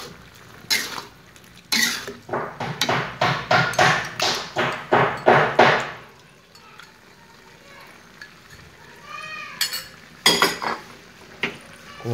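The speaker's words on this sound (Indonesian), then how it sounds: "Kemudian diaduk-aduk kembali" Broccoli and cauliflower stir-fry scraped and stirred around a pan with a utensil, giving a quick run of close, loud metallic clatters and knocks, then a quieter stretch with a few more scrapes near the end.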